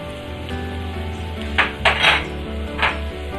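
Chilies being stirred in a cooking pan, with a utensil scraping and clinking against the metal in a few short bursts over a steady low sizzle and kitchen hum.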